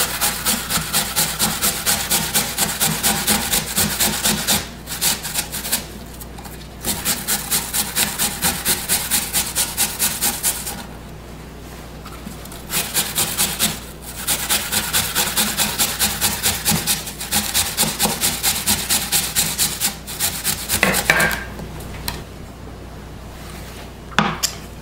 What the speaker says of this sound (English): you're going to shred it with the cheese grater